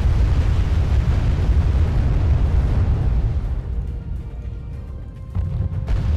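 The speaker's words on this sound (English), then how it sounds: "let's bombard the fuck out of his fob, right?" Deep, continuous artillery bombardment rumbles from the Wargame AirLand Battle strategy game, with overlapping heavy explosions filling the whole stretch, easing slightly toward the end before another burst.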